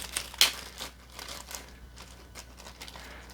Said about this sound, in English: Actually unwrap it because it's wrapped in this nylon.